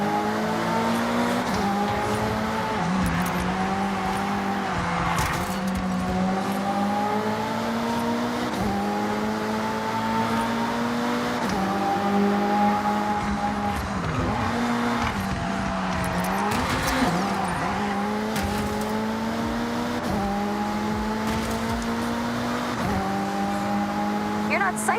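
Race cars in a Forza Horizon street race, a sustained engine drone with rising gear pulls and occasional shifts, steady and close, with voices speaking over it.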